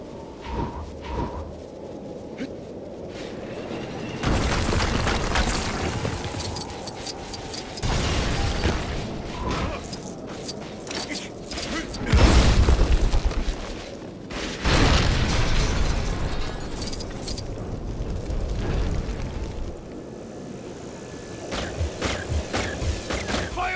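Turrets keep firing in Lego Marvel Avengers, with repeated bursts and thudding blasts arriving in loud blocks separated by quieter gaps. One heavy boom stands out near the middle.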